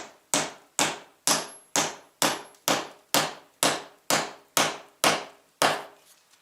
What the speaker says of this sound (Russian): Начинаем аккуратно забивать, и он как по резьбе туда заколачивается.